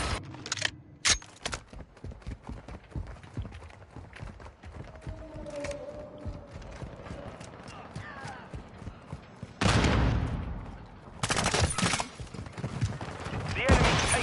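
Rapid bursts of automatic gunfire crackle through a Modern Warfare 2 firefight, with sharp repeated shots, brief lulls and louder volleys toward the end, mixed with voices calling out.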